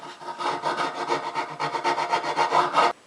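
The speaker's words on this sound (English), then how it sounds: "there's some places that only a file and some sandpaper can get to" Hand filing and sanding on pine wood makes a quick run of rhythmic rasping strokes, about fifteen in steady back-and-forth succession, close and fairly loud before stopping abruptly.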